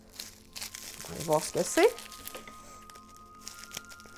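Paper crinkles and tears as a well-wrapped item is unwrapped, in close bursts of rustling. A person speaks briefly over the crinkling.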